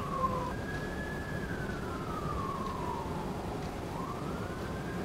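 A distant emergency siren wails, its pitch slowly gliding up and down over several seconds beneath a steady background of traffic hum.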